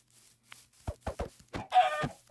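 Chicken clucking in the Minecraft video game, a few short close squawks and clucks in quick succession, the loudest burst near the end, with no talk over them.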